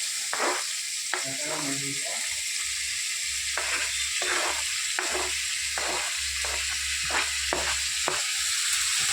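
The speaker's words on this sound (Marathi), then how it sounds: "त्यानंतर कांदा, टोमॅटो, लसूण आणि एक हिरवी मिरची आणि थोडंसं कढीपत्ता जे आपण कट करून घेतला होता ते सगळं यामध्ये टाकणार आहोत" Onion, tomato, garlic, green chili and curry leaves frying in a pan for misal, a steady loud sizzle with repeated stirring scrapes, no talking.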